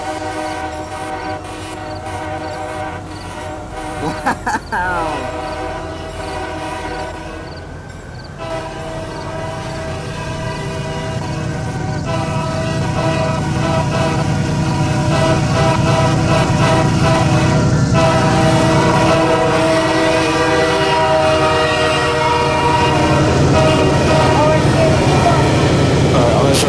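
Train horns from a Metra commuter train meeting a Norfolk Southern train sound in a Roblox railroad simulator game, sustained loud horn blasts layered with rail rumble, and a man briefly exclaims over them.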